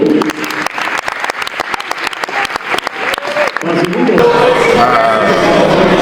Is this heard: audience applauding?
yes